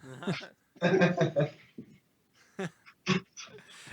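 A German Shepherd and Pitbull mix puppy makes short whiny, breathy vocal bursts in a quiet room, a few spaced yelps and whimpers close to the microphone.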